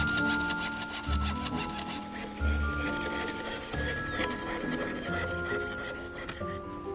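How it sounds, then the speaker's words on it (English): Hand sawing on a bench while restoring a Blitz-surviving clock, steady rasping back-and-forth strokes close to the microphone, fairly quiet and continuous with a few light clinks. "Once I've actually done all the sawing, then it'll be ready to get it engraved."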